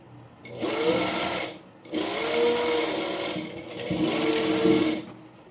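A tailoring sewing machine stitches a layered frill frock in three whirring bursts, each about a second long, separated by short pauses, with no one speaking.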